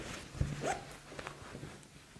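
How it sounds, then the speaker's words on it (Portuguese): A zipper on the pocket of a handmade double-sided fabric bag is pulled once, a short close scrape followed by faint handling rustle. "Com zíper, bolso diferente."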